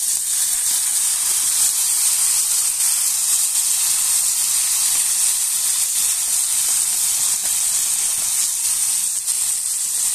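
Mixed vegetables hit a hot pan with onion and sizzle loudly, a constant bright hiss of frying that holds steady from start to finish with no talking over it.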